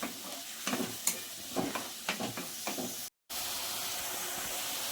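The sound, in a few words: chicken curry masala frying and stirred in oil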